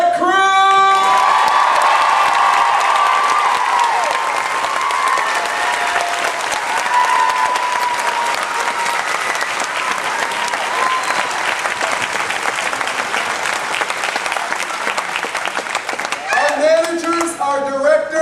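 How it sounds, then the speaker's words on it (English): Theme-park game show audience at Disney's Hollywood Studios, Who Wants To Be A Millionaire - Play It!, bursting into loud, sustained applause with cheers and whoops for the tech crew; music swells beneath and a voice breaks in near the end. "Can I have some more applause for our wonderful tech crew?"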